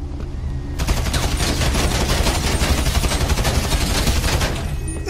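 Rapid automatic gunfire in Grand Theft Auto, a loud, dense burst of continuous shots that starts abruptly after a brief lull and keeps firing almost without a break to the end.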